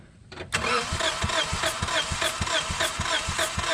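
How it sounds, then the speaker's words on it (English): A car engine cranks during a cylinder compression test with no spark. The starter whirs loudly with a rapid, even chugging rhythm of compression strokes and never catches. "go ahead and crank it a few times"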